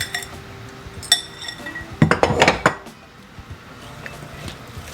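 A fork folding chopped rhubarb into cake batter in a bowl, with scattered clinks and a quick burst of scraping and tapping against the bowl.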